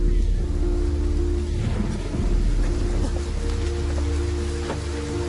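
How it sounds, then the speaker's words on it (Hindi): Heavy rain pours down steadily, a dense hiss of drops with low rumbles rolling underneath. "इतनी तेज बारिश,"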